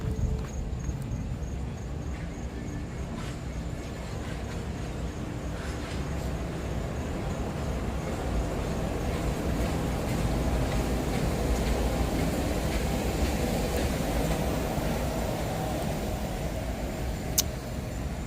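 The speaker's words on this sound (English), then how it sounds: "Oh, we got a beautiful monorail shot coming." A Disney monorail passes at Epcot, a broad steady rumble that swells gradually louder over outdoor park ambience, with a faint click near the end.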